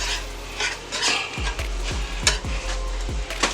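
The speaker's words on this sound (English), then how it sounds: "We're going to add our mushrooms to it." Mushrooms being stirred into a simmering Cajun shrimp Alfredo sauce in a pan, with a soft sizzle under repeated scraping strokes of a utensil, close and steady, with no talking.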